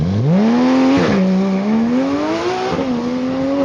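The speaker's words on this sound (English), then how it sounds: "And now being joined by the Porsche GT3." A Porsche GT3 sports car runs close by at a motorsport event at Beaulieu, its loud engine note climbing and dipping through revs as it accelerates past, with no one speaking.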